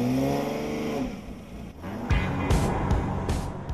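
A Porsche Boxster convertible sports car with the roof down accelerates hard, its engine note climbing steadily in pitch, then dropping with gear changes as revs rise again, loud and close throughout.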